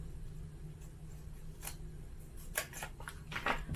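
Scissors snip through dimensional adhesive at a craft table, a few quiet crisp cuts in short bursts over a low steady background hum.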